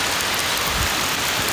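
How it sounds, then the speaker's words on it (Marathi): Heavy rain pouring down hard in Malvan, a loud, dense, unbroken roar of falling water close by, with no voices over it. "अत्यंत वेगाने पाऊस"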